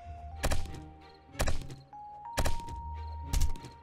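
Pig carcass being chopped in the survival game 7 Days To Die, four heavy, evenly spaced thunking blows about a second apart, close and loud over a faint steady game tone.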